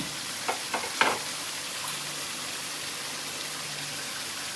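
Meat curry with potatoes frying in a pan, a steady soft sizzle across the whole stretch with a few brief clatters of stirring near the start, no voices.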